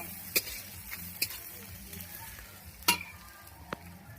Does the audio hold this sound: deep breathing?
no